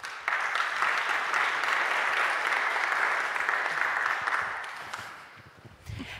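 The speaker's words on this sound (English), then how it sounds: "Give them an applause" An audience at a science summit applauds as presenters are called on stage, a broad, even roar of clapping that holds steady for about five seconds and then tapers off.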